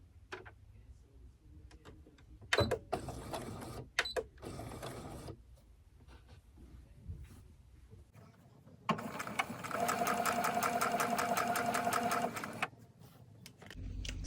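A sewing machine stitches the side seams of an apron in short bursts of rapid, close mechanical ticking, ending with one longer steady run of stitching.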